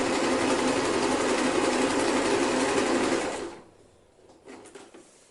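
A sewing machine stitches fabric for a homemade sleeping bag laid flat on a pool table, a steady loud close whirring run for about three seconds before stopping, leaving faint room sound.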